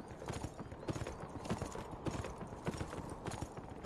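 Horse hooves clip-clop in the Beyond: Two Souls video game, a rapid, steady rhythm of hoof strikes at moderate distance, joined by a faint whinny and an occasional soft voice.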